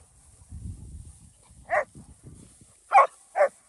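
An angry husky dog barks three times indoors, sharp close barks spaced apart, following a stretch of low grumbling and shuffling noise, fairly quiet overall.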